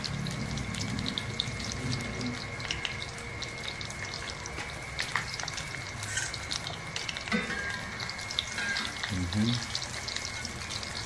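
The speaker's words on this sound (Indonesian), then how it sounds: "minyaknya udah panas ya seperti itu digoreng satu persatu nah ini membuat tempura udang goreng tempura" Battered shrimp tempura frying in hot oil in a wok sizzles and crackles steadily throughout, close up, with occasional louder bursts as pieces are dropped in and moved.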